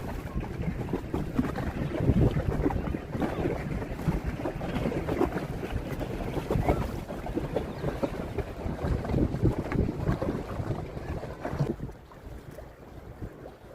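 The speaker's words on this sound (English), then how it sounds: "Hear the water lapping at the wall underneath me." River water laps and sloshes continuously against a wall below, with blustery wind noise over it and no voices.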